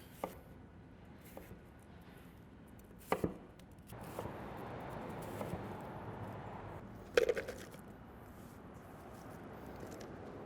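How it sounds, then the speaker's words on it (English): A knife dices an onion into large pieces on a cutting board, with a few sharp chops, then a stretch of softer cutting and a faint hiss, and another crisp chop near the end. "And just a large dice on the onion as well."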